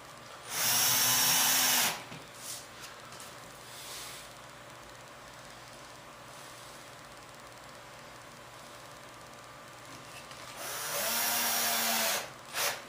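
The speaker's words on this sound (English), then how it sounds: "I'm just taking these little screws. They're just deep enough to go through the wood and not stick out the other side." A power drill drives small screws into wood in two short whirring bursts about ten seconds apart, each lasting under two seconds, close up with quiet room noise between.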